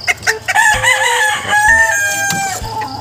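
A rooster crows loudly and close by, with a long drawn-out call, and other chickens cluck around it.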